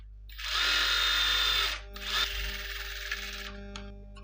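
A sewing machine runs in two loud bursts, stitching the waist seam of a blouse, with a steady whirring hum that stops briefly between runs and then winds down near the end.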